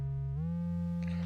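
A synthesizer's super oscillator in an arpeggiator plugin hums a steady low tone whose pitch bends upward briefly, with a faint hiss of noise creeping in near the end.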